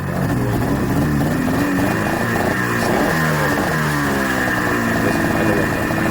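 A Ski-Doo snowmobile engine revving during a summer-storage run-up, with a loud, close, continuous whine that rises and falls in pitch across several rev cycles.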